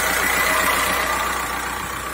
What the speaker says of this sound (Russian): Только дизелит, дизель.